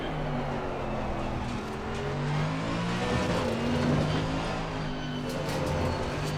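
A Mercedes-AMG GT3 race car in Assetto Corsa Competizione drones loudly at Paul Ricard as it brakes and downshifts toward second gear, its steady engine note wavering through the shifts without a break.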